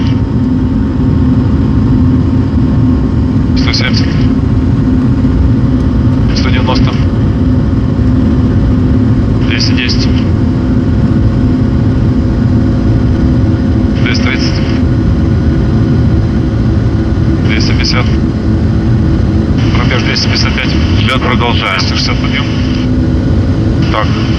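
Antonov An-124 Ruslan engines at takeoff power during the takeoff roll, heard from inside as a loud, constant roaring drone, with crew voices cutting in periodically over the noise.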